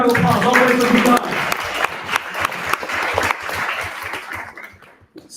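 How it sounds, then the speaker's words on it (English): Audience applause for a guest from Dubai at a business event, loud dense clapping that swells at the start then gradually thins and fades toward the end, with voices mixed in. "Give him a big round of applause."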